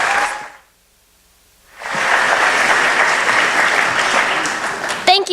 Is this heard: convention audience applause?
yes